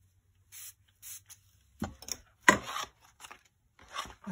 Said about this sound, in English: I'm going to spray a little bit more.